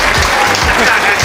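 Group clapping at a monthly meeting where a birthday is being celebrated, a dense steady patter of many hands close by, with voices mixed in underneath.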